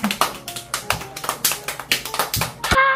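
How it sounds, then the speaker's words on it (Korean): Family members clapping for an older brother at home, a quick run of close, sharp hand claps in an uneven rhythm that stops abruptly. "형한테 박수!"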